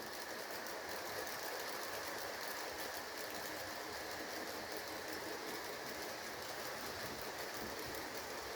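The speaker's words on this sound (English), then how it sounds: "As soon as the ore train passes here." A model railway ore train runs along a layout at Unity Junction near the Renton Mine, giving a steady, continuous rolling rumble and hiss for the whole stretch with no break.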